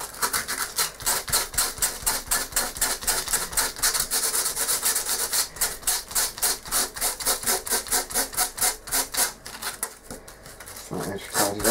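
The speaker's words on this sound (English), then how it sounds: "So we grab a piece of sandpaper," Sandpaper is rubbed back and forth over the edge of a model frozen-river piece for a tabletop wargame board, giving rapid, rhythmic scratchy strokes at close range, steady for about ten seconds before slowing.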